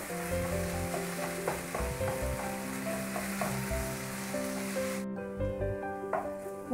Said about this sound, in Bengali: দু 3 মিনিট ভালো করে ভাজতে থাকবো